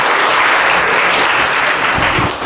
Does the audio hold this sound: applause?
yes